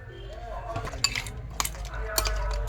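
A spoon stirs jaggery in a metal pot to dissolve it, scraping and clinking against the sides with a few sharper knocks, close up and fairly loud.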